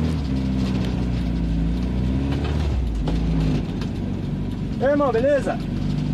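A Volkswagen Voyage engine pulls away loudly, a deep sustained rumble with rising revs near the end, while someone speaks briefly over it.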